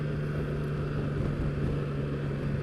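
The engine of a 2016 Triumph Rocket III Roadster motorcycle pulls hard in second gear on a test ride, a steady, dense low drone mixed with wind rush, with no talk.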